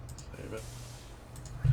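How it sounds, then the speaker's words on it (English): Quick, irregular keyboard clicks tap close by during a SnowRunner gaming session, sitting over a steady low electrical hum with some breathy noise. "it gets loud when I start typing"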